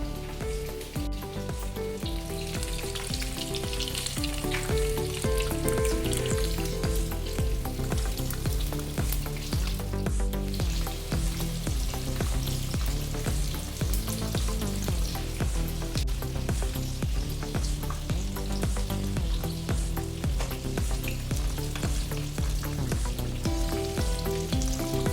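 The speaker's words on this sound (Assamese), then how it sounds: "এতিয়া এইখিনি ফ্ৰাই কৰি লওঁ" Homemade chicken lollipops frying in oil, giving a continuous crackling sizzle that lasts the whole stretch, with background music playing over it.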